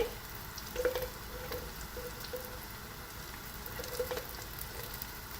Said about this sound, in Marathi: कांद्यावर मी ह्यातली थोडीशी पेस्ट टाकते. ही जी आपली आल्याची पेस्ट आहे ना